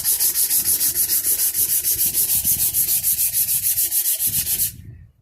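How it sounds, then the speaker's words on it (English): A guitar neck's rounded back is sanded by hand with steady, even back-and-forth strokes in a quick regular rhythm. The scratchy rasp is close and loud, then stops abruptly near the end. "how much it's going to be sanding on which part of the neck"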